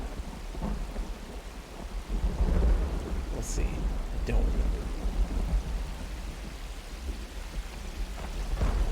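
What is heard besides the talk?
thunderstorm with rain in video game Myst Online: Uru Live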